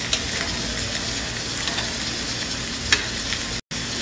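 Rice with chopped green onion and parsley is turned over in a hot pan, giving a continuous sizzling hiss with faint scraping, one crisp tick near the three-second mark and a momentary dropout near the end.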